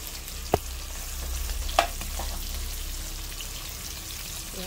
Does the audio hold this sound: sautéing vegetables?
yes